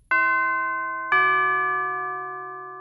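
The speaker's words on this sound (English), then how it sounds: "one final bell tolls for blood" A single deep bell strikes twice, about a second apart, each stroke ringing out with a long, slowly fading resonant hum, loud and alone.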